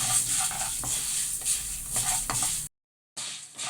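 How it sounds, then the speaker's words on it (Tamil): Garlic fries in a pan over low heat, a close, steady sizzle broken by scraping stirs of the spoon, briefly cutting out before the sizzling resumes. "நம்ம பூண்டை வந்து நல்லா வந்து சிம்மில் வச்சு நல்லா கோல்டன் ப்ரௌனாக வறுத்துக்கணும்."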